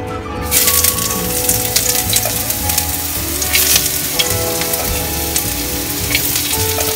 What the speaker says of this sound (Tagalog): Mantika nyo na medyo umusok-usok na siya guys, ilalagay na natin ang bawang at luya.